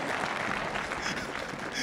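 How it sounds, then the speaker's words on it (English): A church congregation claps together during a sermon, producing a dense, steady patter of many hands that runs unbroken for about two seconds. "You're clapping hand."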